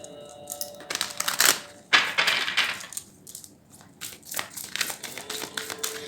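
Tarot cards drawn and shuffled during a Hindi reading, giving dry papery flicks, slaps and crinkles in irregular bursts, close and fairly clear with no voice over them.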